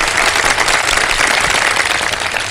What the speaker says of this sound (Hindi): इनकी हौसला अफजाई के लिए बहुत सारी तालियां बजा दीजिए।